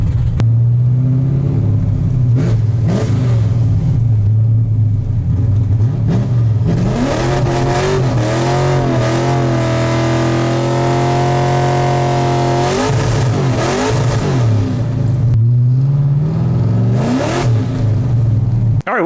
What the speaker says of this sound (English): Gotta do a quick burnout on the way out.